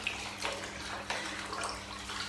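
Pants being hand-washed gently in water give quiet, soft sloshing and swishing, with a couple of slightly louder splashes, faint and close by.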